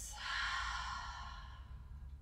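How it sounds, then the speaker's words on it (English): A single long open-mouth exhale during a breathing and yoga break, a soft airy rush of breath close to the microphone that fades gradually. "And then exhale, taking an open mouth to reset."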